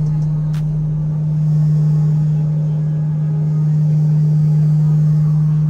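An airliner's engines hum inside the cabin during takeoff, a loud, steady, unbroken drone with a strong low tone that swells slightly partway through and then stays constant.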